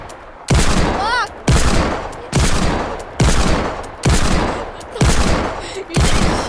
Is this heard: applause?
no